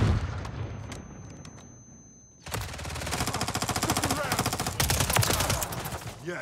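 Rapid automatic SMG fire in a video game, a dense burst of shots starting abruptly after a quieter stretch of faint clicks and continuing loud and sustained to the end.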